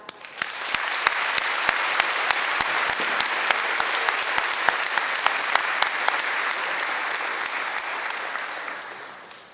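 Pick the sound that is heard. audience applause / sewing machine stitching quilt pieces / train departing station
audience applause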